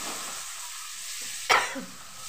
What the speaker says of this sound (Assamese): পিঁয়াজবোৰ অলপ বাদামী ৰং হোৱালৈকে মই ভাজি ল'ম